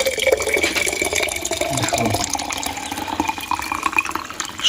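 Slightly warm water pours steadily into feeders for several seconds, a continuous splashing stream with small bubbling and dripping sounds, fairly close and loud.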